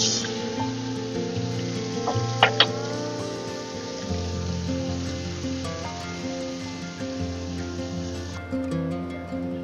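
A paste of ginger, dry chili, coriander and cumin fries in hot oil with a steady, close crackling sizzle, a couple of sharper pops partway through, and a faint tonal hum running underneath.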